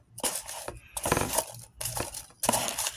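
Hands rummage through packing peanuts in a box, loud crisp bursts of rustling and squeaky crunching that start and stop in quick clumps.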